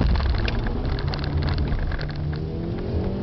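A 2005 Volkswagen Passat with a 2-litre engine pulls away from a standing start in a 0–100 km/h test, its engine note steady and moderately loud for a few seconds with no talking.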